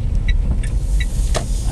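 A Peugeot iOn electric car turns around on the road, making only a low, steady tyre and road rumble with faint clicks and no engine note.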